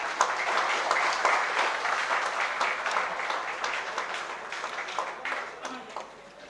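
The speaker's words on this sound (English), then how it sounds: "Ladies and gentlemen, we expect a round of applause from you all." An audience at an engineering college program on 3D printing gives a sustained round of applause, dense steady clapping from many hands that gradually tapers.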